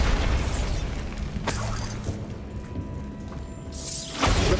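Bombarda blasting spell in Hogwarts Legacy, a booming explosion with a rumbling tail, followed by a quieter mechanical stretch and another heavy burst near the end.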